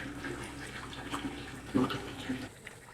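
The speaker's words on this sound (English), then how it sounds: "here we have more of the water spewing out" Water gushes steadily from a spout at Andersonville prison site, a soft continuous rushing splash with faint gurgles, fairly quiet throughout.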